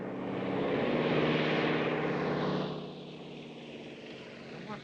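A propeller plane drones overhead, swelling to a loud engine hum then fading away as it passes, with faint talk in the background.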